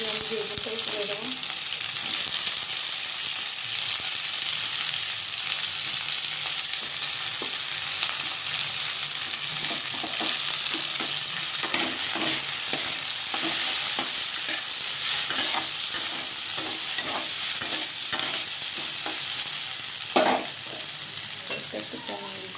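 Onion and eggplant sizzling in a pan, a steady bright hiss throughout with scattered spatula scrapes and clicks, close and continuous.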